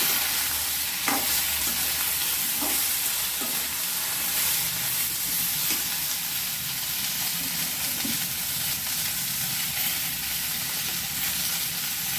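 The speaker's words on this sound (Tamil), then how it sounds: "எல்லாத்தையுமே போட்டுக்கலாம் தக்காளி இதெல்லாம் போட்டு நல்லா வதக்கிக்கலாம் நல்லா வதங்கணும் கத்திரிக்காய்" Brinjal and tomato sauté in hot oil for a spicy chutney, a steady close sizzle running throughout with spoon scrapes and stirring clinks at irregular intervals, no voices.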